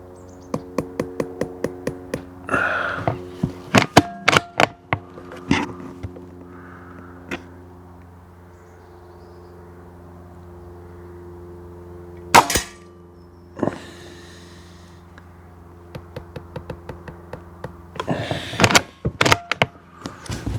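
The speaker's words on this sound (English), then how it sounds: "Okay, let's try a second shot." Remington Vaught PCP .177 air rifle firing, with sharp pneumatic cracks and mechanical clicks and clunks from cocking and indexing scattered throughout, several distinct shots standing out against a humming background.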